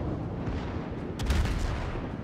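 Shell fire from the Moskva cruiser in a naval battle game, a heavy boom about halfway through over a constant low battle rumble.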